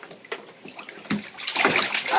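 A baby splashes and sloshes water in a bubble bath at home, with uneven wet slaps and swishes that grow louder and busier toward the end.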